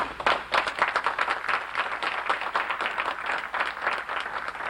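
An audience at a community gathering breaks into sustained applause, dense overlapping clapping that holds steady for several seconds with no talk over it.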